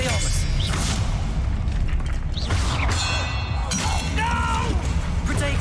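Expelliarmus spell cast in the video game Hogwarts Legacy, a loud magical burst with booming impacts and shimmering tones inside dense, continuous combat noise.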